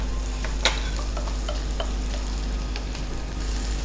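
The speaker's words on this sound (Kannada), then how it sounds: "ಈಗ ಇದಕ್ಕೆ ಇದು ಪೌಡರ್ ಹಾಕುವ. ಇದು ಈಗ ನೋಡಿ ಎಣ್ಣೆ ಒಟ್ಟಿಗೆ ಫ್ರೈ ಆಗುತ್ತೆ." Masala powder fries in oil in a pan with a dense, steady sizzle and scattered spatula scrapes and ticks, close and even, under a low constant hum.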